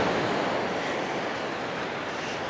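Ocean surf at Kirk Creek Campground on a rough day with strong waves, a steady close roar of breaking water and wind with no talk.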